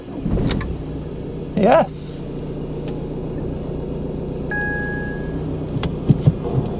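A lightly damaged 2016 Fiat 500X Cross starts up, with a brief mechanical whirr and catch before the engine settles into a low, steady idle; a short spoken reply and some interior clicks are heard nearby.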